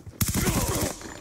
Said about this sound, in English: Another sentry gun.